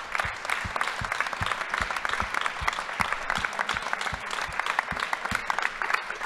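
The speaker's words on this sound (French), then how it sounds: "d'applaudir très très fort Alexis, Kevin, Nicolas, Christophe et Laurent." A crowd applauds the finalists of a national burger competition in France, steady dense clapping from many hands throughout, with a rhythmic thumping beat underneath and no talk.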